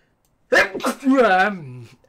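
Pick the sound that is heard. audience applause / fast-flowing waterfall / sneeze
sneeze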